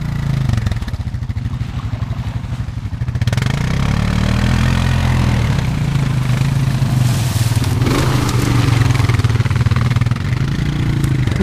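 A Honda dirt bike engine runs loud and close in a muddy backyard bog, a steady idle with uneven throttle swells and rougher stretches partway through.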